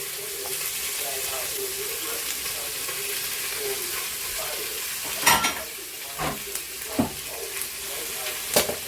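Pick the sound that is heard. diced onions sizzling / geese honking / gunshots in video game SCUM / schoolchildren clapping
diced onions sizzling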